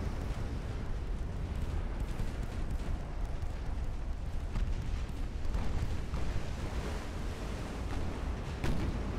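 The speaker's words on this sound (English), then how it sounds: "Torpedo detonation." Torpedo detonations in a naval warship video game produce a continuous heavy rumble of booming blasts, with dense, noisy roaring that swells at moments and no speech.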